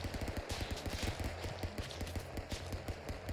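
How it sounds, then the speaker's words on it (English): Rapid gunfire in the brawler game Stick Fight, a dense, steady stream of quick cartoonish shots rattling for several seconds, loud and close, no speech. "You shot the floor"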